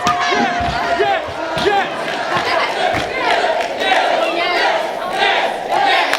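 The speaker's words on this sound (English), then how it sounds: "Crowd definitely approving." Wrestling crowd at a live show cheering and shouting in loud, rolling waves, with scattered thuds and a commentator's voice running over the noise.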